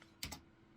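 A short burst of keystrokes on a computer keyboard, two quick close clicks in a row while entering a search term in 3D modeling software, then quiet room tone.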